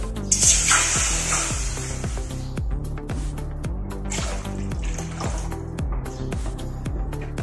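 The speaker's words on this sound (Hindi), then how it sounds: "अपने सब्जी के लिए मैंने बर्तन रखा है। अभी इसमें हम पानी डालेंगे।" Water is poured into an empty cooking pot in a home kitchen while vegetables are being prepared, a bright splashing hiss early on, with rhythmic background music running throughout.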